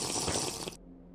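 Short watery gulping from drinking water in the video game Minecraft, a brief bubbly liquid burst lasting under a second, close and alone before cutting to quiet.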